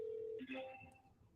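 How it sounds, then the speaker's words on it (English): A phone dialer places a call, giving a steady tone that breaks into short, quiet beeping dial tones, faint and close, with some murmuring in the background. "I press number 1. It connects with my phone. And I'm dialing."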